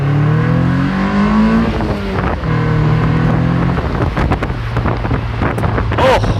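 A Toyota MR2 with a T-top roof accelerates hard, its engine note climbing through rising revs while loud wind noise rushes over the open roof throughout.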